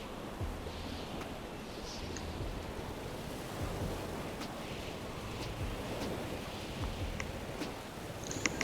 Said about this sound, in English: Definitely don't want to go into the waves.